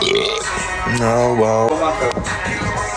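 A person lets out one long, throaty belch with a low, rumbling voiced pitch, close and loud, while other people chat and react around it.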